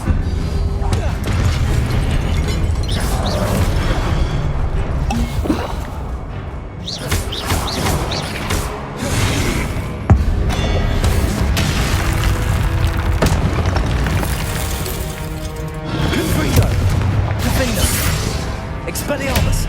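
Fiery Confringo blast spells burst in a Hogwarts Legacy duel against animated statues, loud booming explosions repeating amid dense game music and effects, with a voice speaking over the din.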